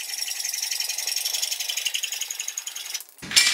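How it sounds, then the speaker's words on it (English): A handheld cutter clamping onto and cutting electrical conduit for a 240-volt outlet install, a steady close rattling, grinding buzz for about three seconds before a brief pause and a sharp final snap. "I clamp and cut."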